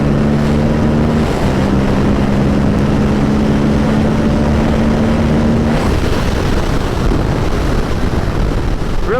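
A 2023 Moto Guzzi V100 Mandello motorcycle pulls hard on a highway, its engine drone steady and loud under heavy wind rush, with a sustained tone that drops away partway through as the rider shifts gears.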